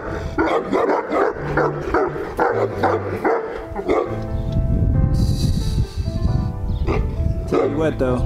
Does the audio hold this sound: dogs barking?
yes